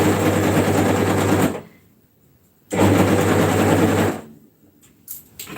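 An overlocker stitches a curved side seam on a top, running in two loud bursts of steady mechanical chatter, each about a second and a half, separated by a quiet pause.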